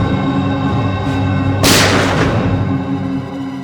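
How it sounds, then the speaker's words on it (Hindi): A single sharp gunshot-like blast cracks out over a steady droning hum, then trails off into a brief rumbling decay. "गोली चलने की आवाज है।"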